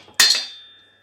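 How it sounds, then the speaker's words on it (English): The top ball joint on a Jaguar X100 wishbone breaks loose with a single sharp metallic crack, followed by a brief ringing tail that fades out within a second. "that was the sound of the ball joint going"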